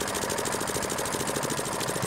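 Field Marshal 8hp diesel engine on a pump set running steadily, a continuous loud throbbing chug with fast regular beats and rattling vibration, heard up close without speech.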